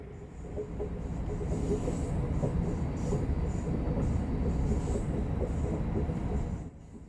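A New Jersey Transit work train rumbles past close by, a loud continuous roar of wheels and rail noise with faint clatter, holding steady for several seconds before dropping off abruptly.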